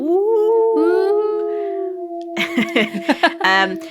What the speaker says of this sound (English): The sound, just like all previous episodes, will be, of course, the howl.